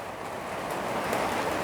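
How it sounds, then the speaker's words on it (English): Rain falling outside, a soft, steady, even hiss heard from indoors, moderately faint and unbroken, growing slightly louder toward the end. "I do love listening to the rain"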